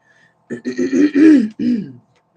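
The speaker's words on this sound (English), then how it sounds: "Clear my throat." A person clears their throat in a few rough, guttural bursts, close to the listener, with silence before and after.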